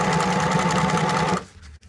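A sewing machine embroiders knit fabric, giving a loud, close, steady rapid stitching whir for over a second before stopping. Faint handling noise follows.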